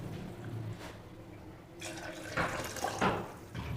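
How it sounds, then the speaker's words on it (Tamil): Tumblers of water pour into a pot of chicken biryani, giving a soft, steady splashing and gurgling stream with a couple of louder sloshes, close by and fairly quiet. "இப்போ இது கூட 2 டம்ளர் தண்ணி மட்டும் சேர்த்துக்கலாம்."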